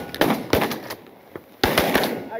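Shotgun blasts during a duck hunt on a pasture pond: several loud, close, sharp reports in quick succession, with a gap before a final shot, each decaying quickly into outdoor ambience.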